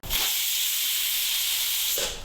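A single strong, steady hiss of escaping steam from a pressure cooker whistle while cooking egg curry on low flame, loud and close, lasting about two seconds before cutting off.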